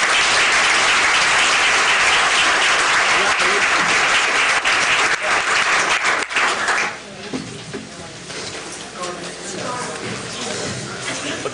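Loud, sustained applause from an audience at a 2018 Glasgow/Barren County political forum, dense clapping for about seven seconds before thinning into scattered claps and crowd shuffling.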